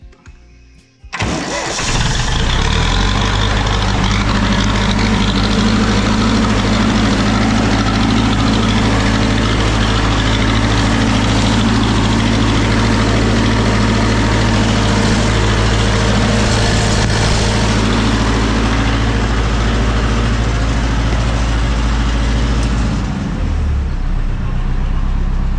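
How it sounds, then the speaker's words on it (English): A Zetor 7211 tractor on a farm cranks and starts at once, then settles into a loud, steady close-up idle that runs on evenly for over twenty seconds. "started right up. That's the great thing with these Zetor tractors."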